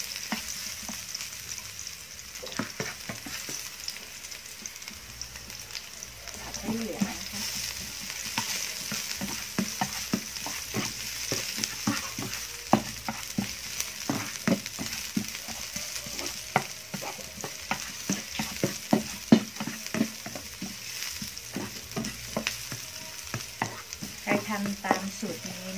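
Stink beans and minced pork stir-fry in a hot pan, a steady close sizzle broken by frequent quick clicks and scrapes of a utensil against the pan, with no talk throughout.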